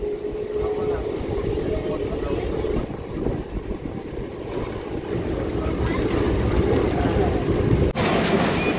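A steady rumble and clatter of a train running on its tracks, loud and continuous, with indistinct voices mixed in, heard from inside the train.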